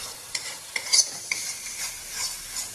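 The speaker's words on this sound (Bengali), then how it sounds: "মশলা ভালো করে কষে দিচ্ছি" Masala paste with ginger and nuts stirred and fried for a potato curry, soft sizzle under a few distinct spoon scrapes and clinks against the pan, close and fairly quiet.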